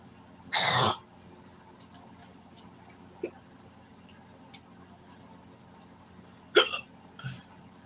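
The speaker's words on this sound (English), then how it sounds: "I was good until those hiccups came back." A person hiccuping, two sharp, loud hiccups a few seconds apart with faint smaller mouth and throat sounds between them in a quiet room.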